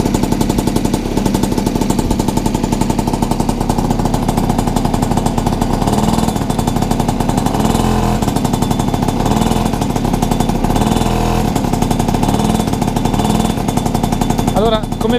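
A Piaggio Si moped's small two-stroke engine runs steadily and loud close by after starting, a continuous buzzing drone with rapid firing pulses throughout.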